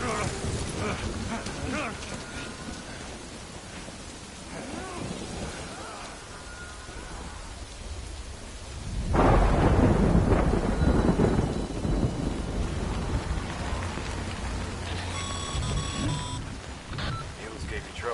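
Rain pours steadily in the video game Death Stranding, and a heavy rumble of thunder bursts in midway and then fades, while voices talk and faint electronic beeps sound near the end.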